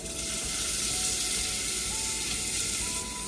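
Onions sizzle steadily in hot vegetable oil in a pan for a ground beef Philly cheesesteak, a dense, even crackle that stays loud and close throughout with no talking.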